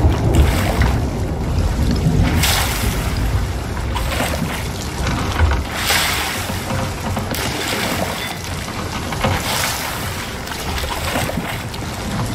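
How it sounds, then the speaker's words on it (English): Stormy seas in the pirate video game Sea of Thieves: a steady roar of high waves and howling wind buffeting a sailing ship, with heavier surges crashing through and no break in the noise. "The waves are super high."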